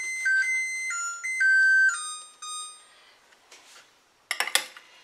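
A kitchen timer's loud electronic melody of bright beeping tones plays for a few seconds, then fades, followed by a short clatter of dishes, after baked butternut squash and apples come out of the oven.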